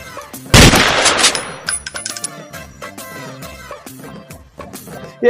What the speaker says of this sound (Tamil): சரலா, என்ன துப்பாக்கியை கொடுத்தா இது வேலையே செய்யலையே